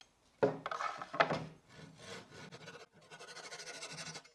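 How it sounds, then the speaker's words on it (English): A Japanese pull saw rasps back and forth through a pine dowel, cutting it flush, in a few quick strokes, close and fairly quiet, followed by a run of shorter, lighter cutting strokes. "cut the dowel with a Japanese saw, ensuring a flush cut"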